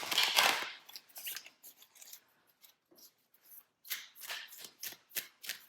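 Tarot cards being shuffled by hand, close and crisp, with a burst of riffling followed by short papery slides and flicks in an irregular rhythm against near silence.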